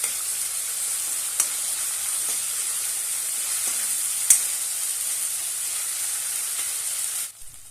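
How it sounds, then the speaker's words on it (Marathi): Finely chopped tomato sautés in a pan with a bright, steady high hiss of sizzling, a couple of faint clicks from stirring, and the sound cutting off abruptly near the end. "आता यामध्ये 1 टोमॅटो बारीक कट केलेला आहे तो घालूया आणि छानपैकी परतून घेऊया।"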